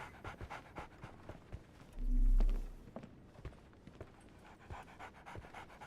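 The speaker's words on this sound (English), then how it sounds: "Barnes has a dog now." A dog pants steadily and close by in a Sherlock Holmes video game, rapid breathy huffs running throughout over a low background with a brief hum midway.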